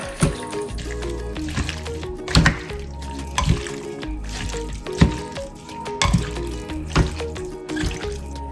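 Roasted capsicum strips tossed with a generous amount of oil in a bowl, giving wet, slippery squelches and soft clatters in an irregular rhythm, close and moderately loud with no talking.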